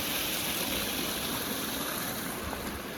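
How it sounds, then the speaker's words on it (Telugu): A small stream in the hills near Hyderabad pours down from above, giving a steady, dense rush of flowing water that fills the scene without pause. "పైనుంచి ఫ్లోతో వస్తున్న వాటర్"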